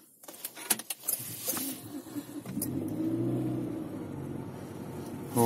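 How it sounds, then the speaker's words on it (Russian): A 2017 Renault Kaptur engine starting in frost of minus 16, with some clicks and rattles from inside the car, then a cranking catch settling into a steady idle. "Запускаем двигатель."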